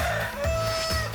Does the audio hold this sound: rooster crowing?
yes